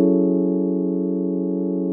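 A synth patch designed in Serum sustains as one steady, smooth harmonic tone for two seconds, starting and stopping abruptly, loud and dry with no other sounds.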